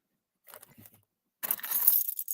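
Keys jangling in someone's hands at close range, a brief soft rattle followed by a brighter, busier metallic shaking, fairly quiet.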